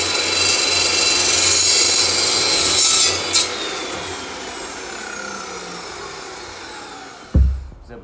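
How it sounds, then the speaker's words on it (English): Aluminum angle stock from the hardware store being cut on a cold saw meant for steel, giving a steady loud grinding, rasping whine for about seven seconds that ends abruptly with a low thump. "So this is a cold saw. It's meant for cutting steel, but I've cut aluminum with it before."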